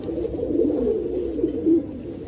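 Pigeons coo in a rooftop breeding loft, a steady rolling murmur of overlapping calls close by, swelling briefly near the end.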